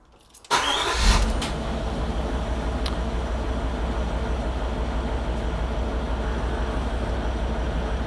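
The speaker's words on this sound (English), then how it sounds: "let me start the car" A Range Rover Sport with an air suspension system starts up: a short cranking burst, then the engine catches and settles into a steady, close idle that continues uninterrupted.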